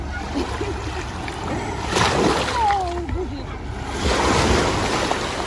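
Sea waves wash onto a beach on a breezy day, with a steady surf hiss and wind buffeting the microphone. The wash swells twice in broad surges, and faint voices and a brief squeak sit under the water noise.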